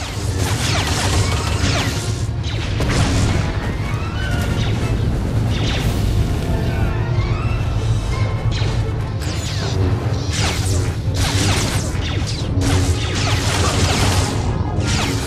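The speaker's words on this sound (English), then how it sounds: "here we have our first lightsaber on lightsaber battle" A lightsaber duel between a Sith warrior and a Jedi Padawan in Star Wars: The Old Republic brings dense, continuous clashes, crashes and swooshing blade sweeps over a loud game soundtrack, with no gaps.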